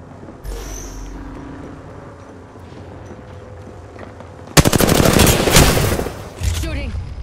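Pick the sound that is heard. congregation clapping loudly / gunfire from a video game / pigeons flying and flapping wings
gunfire from a video game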